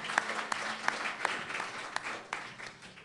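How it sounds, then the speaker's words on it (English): A small audience at the Black Cat venue gives a thin, scattered round of applause during a Democratic at-large DC Council forum, individual claps fairly faint and spread out over a few seconds. "Please give them a round of applause."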